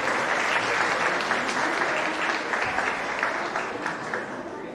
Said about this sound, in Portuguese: E uma salva de palmas também,